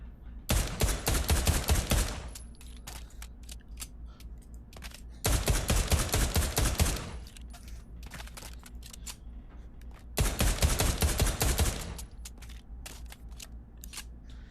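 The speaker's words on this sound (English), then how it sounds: "with one of my favorite pistols, none other than the Colt M1911" Rapid bursts of Colt M1911 pistol fire in the VR shooter Pavlov Shack, three dense volleys of close, loud shots separated by short quiet gaps with no talking.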